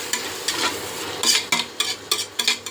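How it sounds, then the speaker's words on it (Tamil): Tomatoes sauté in a pan for Bhai-style biryani with repeated stirring and scraping strokes over a steady sizzle, close and fairly loud, with no voices. "நல்லா வதங்கட்டும் தக்காளி நல்லா மசிஞ்சு வரட்டும்"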